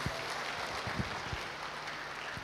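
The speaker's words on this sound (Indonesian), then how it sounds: "Berikan aplaus buat Sabana Fried Chicken." Applause at a tenth-anniversary company gathering for Sabana Fried Chicken, a steady, distant wash of clapping that fills the whole moment with no voices over it.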